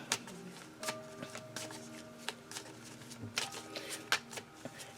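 Tarot cards shuffled close by in repeated soft riffling bursts and flutters, with a quiet sustained musical tone underneath.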